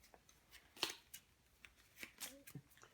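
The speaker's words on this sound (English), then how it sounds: "These get shuffled in to the enemy deck." Playing cards being shuffled into a deck by hand during a tabletop card game, heard as a few quiet, brisk riffling and flicking bursts at close range, with soft pauses between them and no talking.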